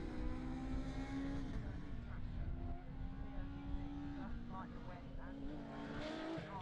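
Rallycross car at the Pembrey circuit in the 2019 British Rallycross Championship powering out of a hairpin on tarmac, engine note climbing and dropping with each upshift, loud and continuous beneath commentary.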